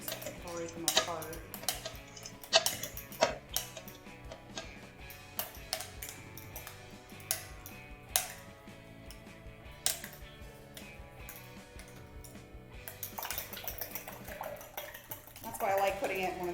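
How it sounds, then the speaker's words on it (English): Eggs are whisked vigorously in a deep liquid measuring container to break up the yolks, giving a run of quick clinking and tapping strokes at close range with kitchen background sounds. "I'm going to mix this all together, break up the egg yolks, vigorously mix it so it gets nice and fluffy"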